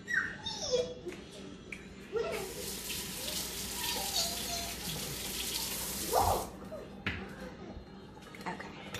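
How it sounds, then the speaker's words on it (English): A kitchen tap runs full for several seconds as something is rinsed out beneath it, a steady close rush of water with splashy changes, while voices talk around it. "You want to just rinse that out real quick?"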